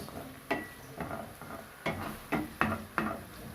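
Garlic and ginger paste sizzling as it is stirred into frying vegetables for cabbage fried rice, a steady low sizzle punctuated by about seven sharp stirring scrapes at a regular pace, close and moderately loud.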